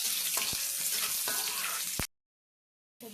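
Fresh bay leaves and green chili frying in a very hot wok, a loud dense sizzle with a few sharp stirring knocks, cutting off abruptly into silence before resuming briefly.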